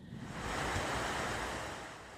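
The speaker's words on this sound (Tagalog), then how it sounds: "mabagsik na hangin ang naranasan ng mga taga-Taiwan." A strong typhoon wind in Taiwan roars as a dense, rushing noise that swells and then eases slightly over a couple of seconds.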